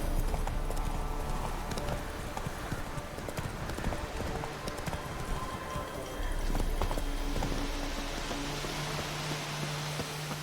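Roach the horse galloping in The Witcher 3 video game, with a steady rapid clip-clop of hooves over a continuous noisy backdrop for the whole stretch, close and moderately loud.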